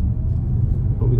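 A car engine in a driving lesson gives a steady low rumble from inside the cabin as it pulls away with a bit of gas, rising slightly toward the end.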